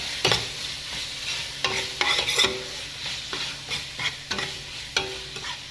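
Ginger garlic paste stirred into frying chicken roast: a low background sizzle broken by several sharp, irregular scrapes and clanks of a spoon against the pan, no speech.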